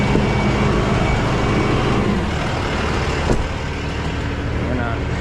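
A truck engine idles loudly and steadily, a dense low rumble that eases slightly partway through as it settles down, with a brief clank near the middle.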